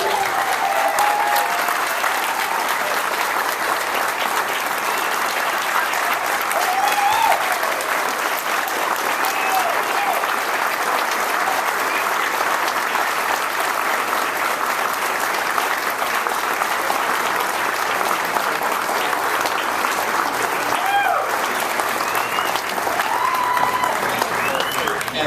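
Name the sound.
wedding guests applauding Maddie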